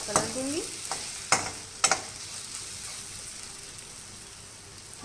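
Onions frying in a pan for a bhindi fry, a soft steady sizzle with a few sharp stirring clacks near the start, fading to a quiet hiss, no talking.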